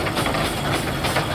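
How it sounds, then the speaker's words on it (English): A small 3-inch barrel steam traction engine runs at an agricultural country show arena, giving a steady, loud, rumbling chuff with a faint rhythmic beat. "It's a 3-inch barrel traction engine"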